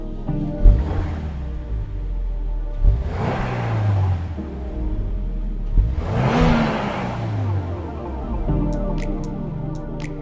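Subaru WRX tS 2025 with manual gearbox and quad exhaust, its engine revving in three strong rising-and-falling pulls spaced a few seconds apart, loud and close, with a few sharp clicks at the end.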